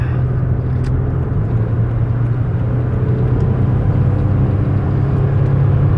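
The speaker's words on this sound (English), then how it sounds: "give them some gas so you can hear the engine run and the transmission shift." A 2005 Toyota Sienna LE wheelchair van with 175k miles idles and revs close by, a steady low engine drone holding throughout as the transmission shifts, loud and continuous with no talk.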